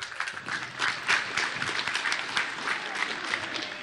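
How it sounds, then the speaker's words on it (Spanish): Crowd applause at the inauguration of a new school in a rural Bolivian province, a dense, sustained clapping from a large outdoor audience at moderate distance, with some murmur mixed in. "un fuerte aplauso."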